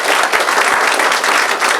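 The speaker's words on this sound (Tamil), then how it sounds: "நல்ல கைத்தட்டல் கொடுத்தாங்க" An audience at a Lions Club silver jubilee celebration claps loudly, a dense, even burst of many hands with no voices standing out.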